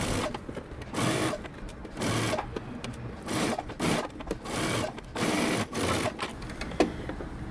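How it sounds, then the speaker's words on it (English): A sewing machine stitching a cardigan sleeve cuff with half inch seam allowance, whirring in steady bursts that start and stop, close and clear. "we're going to go ahead and stitch all the way around using half inch seam allowances"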